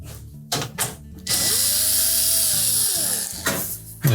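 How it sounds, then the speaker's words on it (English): A power driver backs quarter-inch hex head screws out of the rear access panel of a GE range, with short whirring bursts, one long sustained spin in the middle and a final brief burst. "We'll simply remove the screws that secure the access panel in place. These are typically a 1/4 inch hex head screw."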